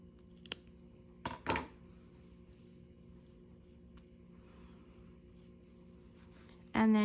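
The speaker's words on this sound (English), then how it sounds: "And then you're gonna snip those." Scissors snip yarn ends on a small crocheted pet hoodie with a few quick, close, distinct cuts against a quiet room hum, and a louder sound at the very end.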